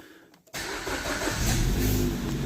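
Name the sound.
car engine starting up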